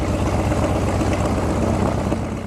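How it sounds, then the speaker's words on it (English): A WACO biplane from the Weaver Aircraft Company of Ohio drones loudly and steadily throughout, its propeller engine giving a constant, close, rumbling roar that never lets up. "He drives this biplane for a living."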